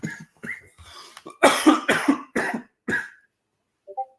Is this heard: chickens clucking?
no